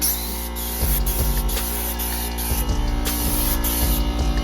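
A paint spray gun sprays a K-series engine valve cover with a close, loud, steady hiss that pulses on and off in short bursts over a constant compressor-like hum.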